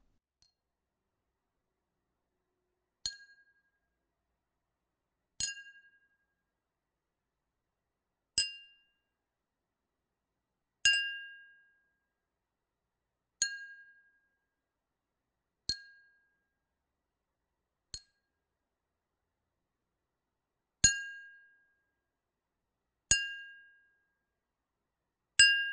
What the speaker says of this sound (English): I'll build a glass percussive instrument now.